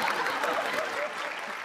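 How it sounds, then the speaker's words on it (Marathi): Applause from a live comedy show audience, a steady dense wash of clapping that fills the whole moment at moderate level without pauses. "जोरदार टाळ्या जोरदार टाळ्या"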